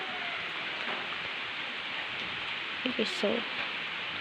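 Steady hiss of rain falling across the whole stretch, with a brief voice speaking near the end.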